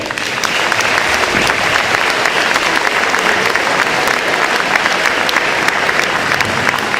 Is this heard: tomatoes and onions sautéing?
no